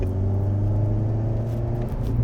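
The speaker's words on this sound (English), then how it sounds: "the turbo sound of this car sounds wicked" A turbocharged Alpine A110 engine rumbles steadily up close, a low throaty drone with a faint rising rev, and no voices.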